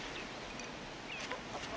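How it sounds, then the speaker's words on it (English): Chickens cluck in a backyard in wartime Moscow, soft intermittent clucks over a steady background hiss, fairly faint and without talk. "Chickens, Mr. Ambassador?"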